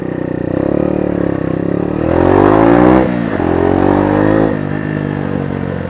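Sinnis Apache motorcycle engine droning while riding and filtering through traffic, rising in pitch around the middle as it accelerates then settling back, steady and close with no talk.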